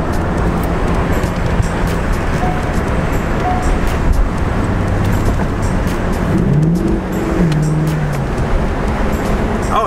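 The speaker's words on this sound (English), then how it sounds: "the exhaust sounds pretty good too for a factory exhaust back then" A 2001 Chevrolet Corvette convertible's V8 engine rumbles loudly up close, its factory exhaust growling as the revs climb and shift during acceleration.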